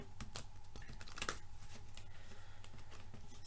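Tarot cards are shuffled by hand in quick, papery riffling bursts, close and fairly loud, without any talking.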